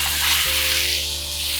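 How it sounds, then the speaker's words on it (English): Pork stir-fried in a wok gives a loud, steady hiss of sizzling fat that runs without a break through the short stretch, up close. "That way we're going to be stir frying and not stewing."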